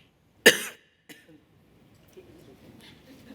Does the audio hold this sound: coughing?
yes